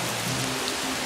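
Light rain falling outdoors, a steady soft hiss of drops on surfaces filling the background evenly and without pause.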